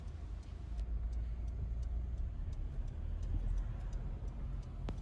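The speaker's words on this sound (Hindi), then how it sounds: "यहाँ पर तो काफ़ी ट्रैफिक है।" Road traffic passes at a castle entrance as a steady rumbling wash of engines and tyres, with faint ticking clicks on top and no voices.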